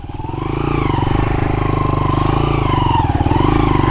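An XL motorcycle's engine revs steadily and loudly at close range as its rear wheel spins in wet monsoon mud, a continuous throbbing drone with a faint clatter and no pause.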